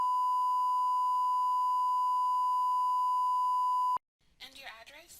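Steady censor bleep tone covering private information in a recorded phone interview, a loud unbroken pure beep lasting about four seconds that cuts off abruptly, followed by a person speaking.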